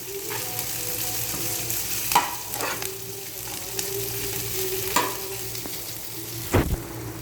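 Onions or aromatics sauté in an oil-filled pan, a continuous close sizzle and crackle with a few scraping stir strokes scattered through it, steady and moderately loud, with no voices.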